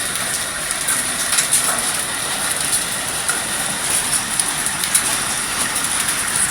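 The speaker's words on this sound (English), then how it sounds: "This is hail in my home. You can hear it, the noise." Hail falls steadily during a hailstorm on the Sunshine Coast, a dense continuous patter and rattle on surfaces with scattered sharper impacts, unbroken for the whole stretch.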